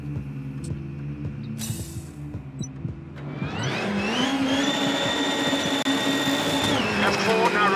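A VW Polo rally car on the Italy stage of WRC 8, its engine idling and popping before revving up into a steady, loud, rising drone that holds for several seconds.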